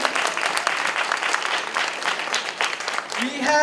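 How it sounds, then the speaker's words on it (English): An audience at a university event applauds a consular official from the Embassy of Ghana, a dense, lively round of clapping that continues for several seconds before a voice begins speaking at the end. "And let's give a round of applause to him."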